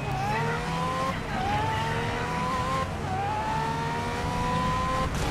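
Race cars on a wet track in the video game GRID Legends with a full field of 22 cars, engines whining up through the gears in repeated rising sweeps, loud and continuous, with no talking.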